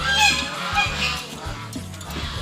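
Loud, close honking from a group of ducks or geese, repeated nasal calls overlapping one another with no speech.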